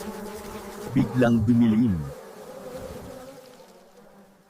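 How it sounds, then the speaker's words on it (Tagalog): Cartoon flies buzz in a children's animated Bible story about the plagues of Egypt, with a close, wavering drone lasting about a second before it fades under a soft background and brief narration. "May kuto, may langaw."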